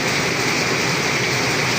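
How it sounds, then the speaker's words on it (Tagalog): Heavy rain pours down in a dense, steady roar, loud and close, with no other sounds standing out. "Ang lakas ng ulan."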